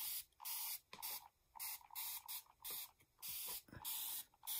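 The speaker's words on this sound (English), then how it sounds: "I'm just going to spray" Mary Ellen's Best Press fabric spray misted from a pump bottle onto wool appliqué fabric: a series of about eight short, close hissing bursts in an uneven rhythm with brief pauses between, no talking.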